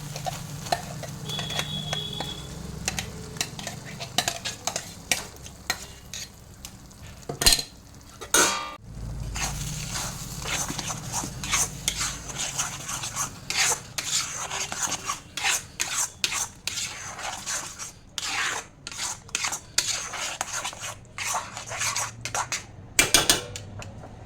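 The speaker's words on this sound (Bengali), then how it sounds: "বাটাটা আমার একদম রেডি হয়ে গেছে, কড়াইয়ের থেকে ছেড়ে ছেড়ে আসছে।" A spoon scrapes and rasps through thick pointed gourd paste cooking down in a wok, with irregular bursts of stirring, occasional louder knocks against the pan and a low sizzle underneath, close and steady with no talking.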